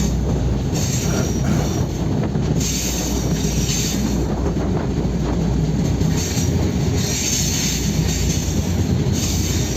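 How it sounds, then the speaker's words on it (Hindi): A slow train rolling along a rail route in Pakistan, heard from on board as a loud, continuous rumble with grinding wheel noise and faint squeals, steady throughout with no talk. "इतनी स्लो ट्रेन चल रही है"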